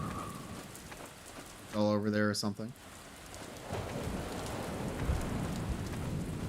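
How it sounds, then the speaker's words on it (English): Rain falls on the ground in a video game set near a coast, a soft steady patter under a brief spoken line from a man. "Little raindrops on the ground."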